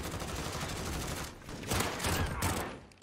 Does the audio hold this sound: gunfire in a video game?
yes